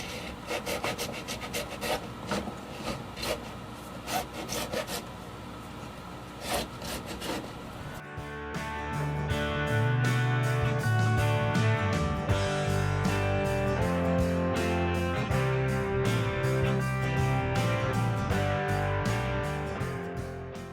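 A file rasps back and forth along the fret edges of a First Act signature guitar in quick, rhythmic strokes, close and steady, and the scraping grows denser and more tonal partway through as the strokes continue without pause.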